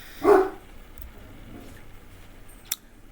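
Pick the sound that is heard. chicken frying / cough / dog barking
dog barking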